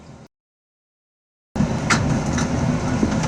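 A Flushing Main Street-bound 7 local subway train in New York City, heard as a loud, close rumbling roar with rattling. The sound cuts out briefly near the start and then returns.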